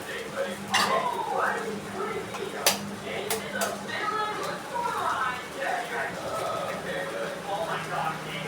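Two eggs stirred into shredded parotta in a pan for egg kothu parotta, with soft scraping and a few sharp metallic clinks of the utensil against the pan under steady talking.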